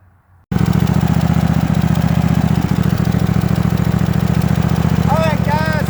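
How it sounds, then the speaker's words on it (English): A Toro Timecutter Z5000 zero-turn lawn mower engine starts up after a brief quiet moment, then runs loud, close and steady with a continuous throbbing drone. A few thin whistling tones rise over it near the end. "I don't know if you can hear me over the mower."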